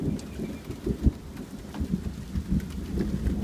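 A severe July thunderstorm in Newburyport, Massachusetts: steady rain patters throughout while low rumbles of thunder roll and thump intermittently, with no voices.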